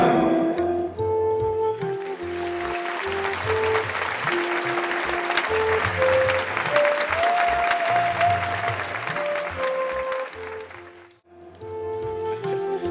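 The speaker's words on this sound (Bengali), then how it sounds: "একটা জোরে হাততালি হবে" An audience at a sports club's golden jubilee autumn festival inauguration applauds loudly and steadily for about nine seconds, then the clapping fades out, with tones from a sustained musical backing running underneath.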